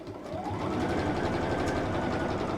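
A sewing machine stitches a fabric bag, its motor ramping up and then running in a fast, steady mechanical whirr and clatter nearby with no speech over it.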